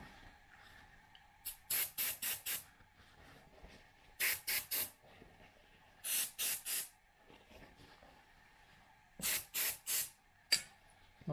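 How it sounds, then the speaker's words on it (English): Brake cleaner sprays onto a bike chainring in short repeated hissing bursts, mostly in groups of three or four, close by against a quiet background. "A bit of brake cleaner will help here."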